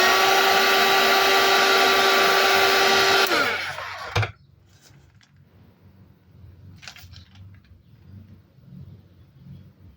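A hair dryer blows steadily and loudly over watercolor paint on paper for a few seconds, then switches off with a click, leaving quiet room sound and faint movements.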